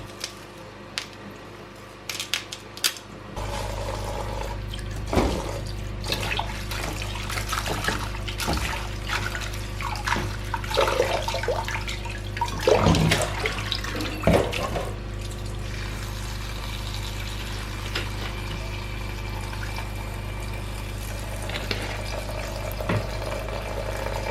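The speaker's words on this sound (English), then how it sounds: "I'll wash my lemon too, because everything is going to be infused" A lemon is rinsed under a running kitchen tap, a steady stream of water splashing and trickling close by, with uneven bursts as the fruit is turned in the flow.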